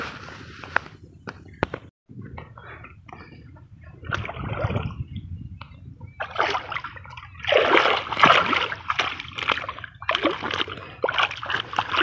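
Water being transferred and splashing in a village, with irregular bursts of sloshing and splatter that grow louder and busier toward the end, mixed with occasional footsteps and trickling.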